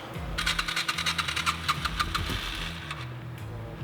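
A motorcycle engine is jump-started, the starter cranking in a rapid, rhythmic chug for a couple of seconds. The cranking stops, and a rough, uneven low engine rumble continues close by.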